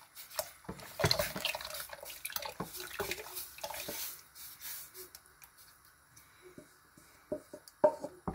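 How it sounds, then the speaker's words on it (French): Contents are poured into hot water and stirred, giving splashy liquid pouring and sloshing that fades into scattered drips and light clinks toward the end. "je renverse le contenu dans de l'eau chaude tout en remuant pour éviter les grumeaux"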